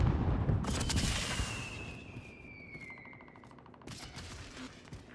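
Gunfire echoes through a Warzone match: a sharp burst of shots up front, then a whizzing streak and scattered distant cracks fading out, with a second cluster of reports near the end, all without talk.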